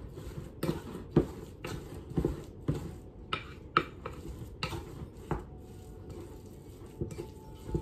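Homemade sausage meat and spices being mixed by hand in a bowl, producing a run of soft squelching thumps and knocks at an uneven rhythm, close and fairly quiet, with no voices.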